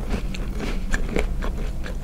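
Crisp crunching bites into a frozen flavored cookie, several brittle crackly bites and chews close to the mouth with no talking.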